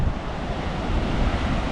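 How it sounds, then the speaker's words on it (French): Steady wind and crashing surf on a rocky beach at Cabo, a loud, continuous roar with wind buffeting the microphone and no voices. "Donc on scrute l'horizon, mais bon, il y a un peu de vent."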